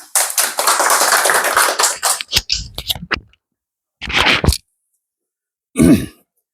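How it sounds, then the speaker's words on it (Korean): Audience at a talk applauding to welcome a speaker: a dense burst of clapping for about two seconds, then scattered claps and short bursts trailing off. "박수!"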